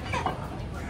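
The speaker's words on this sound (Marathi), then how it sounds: "कोंबड्या बघतोय आता, अरे मोठ्या मोठ्या पाहू शकता" Live chickens at a poultry shop cluck briefly and close by, with faint murmuring voices around them.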